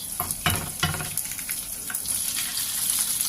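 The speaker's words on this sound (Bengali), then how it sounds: "এবার দিয়ে দিচ্ছি আমি চিংড়ি মাছ" Prawns dropped into a hot pan with mango pickle, giving a steady bright sizzle with a few louder crackling bursts as they hit the oil.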